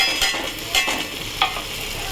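A spice paste of turmeric, chili powder, coriander and cumin frying in a pan, a dense close sizzle with three brief stirring scrapes.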